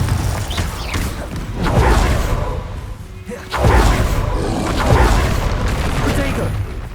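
Spell blasts in Hogwarts Legacy combat against trolls: heavy booms and crashing impacts erupt in bursts over a rumbling roar, while a voice shouts spell incantations throughout.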